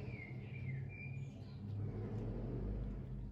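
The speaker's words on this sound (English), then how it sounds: "If you hear motorbikes, cars, children, anything, that's because you're right next to a window." Traffic passing outside an open window, a low steady rumble of cars and motorbikes with a vehicle swelling closer toward the end, faint birds chirping above it.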